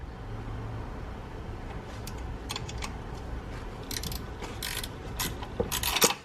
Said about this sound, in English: This bolt here is what tightens the top of the alternator. We'll need to loosen that. That is a size 12.